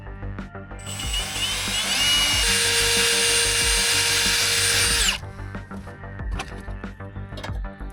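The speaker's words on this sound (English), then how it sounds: "I've got a little drum sander on my drill" A power drill fitted with a small drum sander whirs loudly for a few seconds, grinding against a truck surface, stopping abruptly, with clicks and handling sounds around it.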